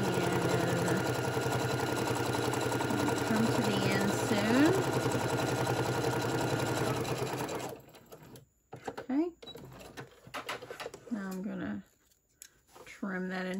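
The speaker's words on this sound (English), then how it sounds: "And I'm gonna put that underneath there, and I'm just gonna chain stitch here. And sew this one all the way down." A sewing machine runs steadily and loudly for about seven seconds, chain stitching a Christmas tote bag strap, then stops, followed by brief handling and rustling of fabric.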